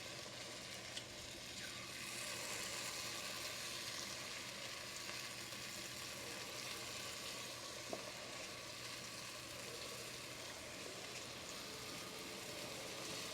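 Bhalle frying in hot oil for a home Ramadan iftar: a steady, faint, even sizzle and bubbling hiss that runs throughout without talk.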